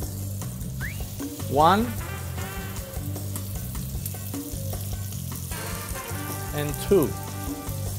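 Pork chops frying in olive oil and butter in a pan over high heat, giving a steady close sizzle with louder bursts as pieces hit the fat, heard under someone talking.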